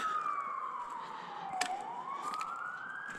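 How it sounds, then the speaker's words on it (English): A siren wails in the distance, its pitch sliding slowly down and then rising again over a faint background hum. "there's a siren down on the highway"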